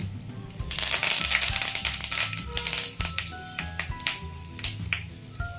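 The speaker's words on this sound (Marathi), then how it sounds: "एक पळीभर तेल घालायचं मोहरी घातली आहे जिरं घालायचं आहे थोडंसं हिंग घालूया हळद घालायची आहे आणि कढीपत्ता" Mustard seeds, cumin, asafoetida, turmeric and curry leaves tempering in hot oil, a loud crackling sizzle with sharp pops and spitting that settles slightly toward the end, close up with no talk.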